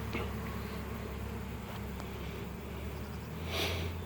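Honeybees buzz faintly around the landing board of their hive, a low steady hum with a soft background wash.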